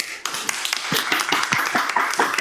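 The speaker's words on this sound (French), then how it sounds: "Et on a les applaudissements, c'est parfait." Scattered applause at the Agreen Startup 2020 award ceremony, moderately loud, with uneven individual claps from a small audience building into a steady patter.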